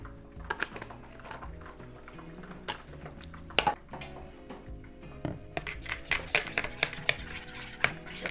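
Butter, garlic paste, Parmesan and dried parsley flakes are mixed in a bowl for homemade pizza rolls, with wet scraping stirs and scattered sharp clinks of a utensil against the bowl, close and moderately quiet.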